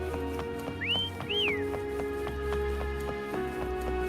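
A player whistles to call the horse Foam in a video game: two short rising-and-falling whistled notes, fairly clear, over a steady, humming game soundscape.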